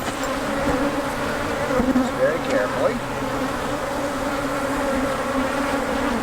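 Honey bees buzz steadily and close throughout an open-hive inspection, a dense droning hum with brief louder swells, while a person murmurs a few quiet words over it.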